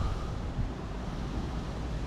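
Low, steady wind rumble buffeting the microphone, continuous and fairly quiet with no voices.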